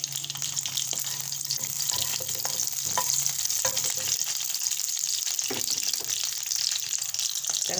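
Onion fries in a pan with a small amount of oil, giving a continuous close, crackling sizzle with scattered clinks and stirring noises, no voice over it.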